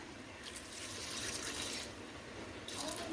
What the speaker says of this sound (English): You can see it's getting a little dry, so I'm going to add some water.